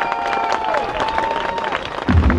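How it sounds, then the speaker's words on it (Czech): Crowd applause and cheering for a boxer in the blue corner at a boxing match, loud and close, with a voice speaking over the clapping before a deeper burst of noise near the end. "Jinak doufám, že potlesk dostane i borec v modrém rohu."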